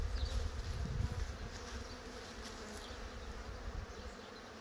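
Honey bees buzz steadily around hives in a bee yard, a soft, continuous hum of many insects with occasional louder passes close by, no voices present.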